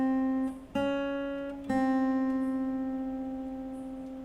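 Fingerstyle acoustic guitar, a sustained ringing note with two further plucks struck over it, each slowly decaying, quiet and close with no voices.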